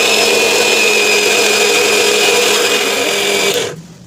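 A kitchen mixer grinder blends strawberry jam in a loud, steady whirring run that cuts off abruptly near the end, with no voices.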